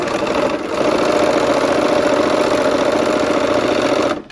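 A sewing machine stitching barn quilt sampler pieces runs in one steady, loud, close mechanical hum for about three seconds, starting just after a brief pause and cutting off at the end, with no voices.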